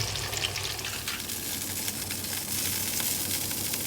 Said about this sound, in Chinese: 刚才我们先一下锅的时候，我们是炸正面嘛，所以炸到差不多5分钟了，我们就转面。